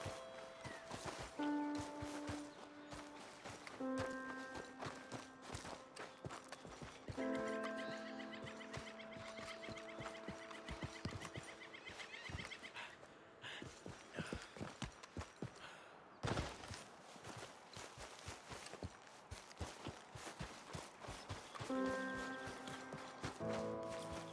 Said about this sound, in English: I probably rode my horse up here